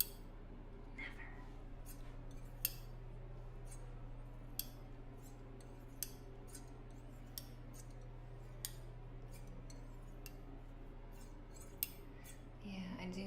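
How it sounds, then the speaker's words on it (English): Sharp, crisp snips of scissors cutting, spaced a second or two apart over a steady low hum, close to the listener. "I love scissoring sounds"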